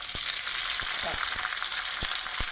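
Halved cherry tomatoes fry in garlic-infused oil for a cod dish, a loud, dense sizzle and crackle with scattered pops and spatters, close up and continuous.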